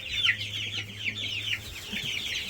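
Two-week-old commercial broiler chickens cluck and peep steadily in a barn, a busy chorus of overlapping calls heard up close with a low steady hum underneath.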